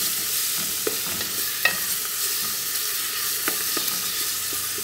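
Seasoned garlic sautéing in a pan with a steady close sizzle throughout, broken by occasional light scrapes and taps of a stirring utensil; no voices.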